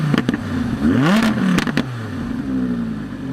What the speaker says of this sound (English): knowing that you have a V10 under the hood, it can only sound like this.